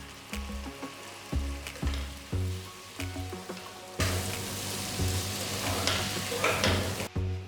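Chopped tomatoes sauté in a pan for a Malai Kofta curry. A continuous sizzle swells louder midway, with stirring knocks and faint tonal music underneath.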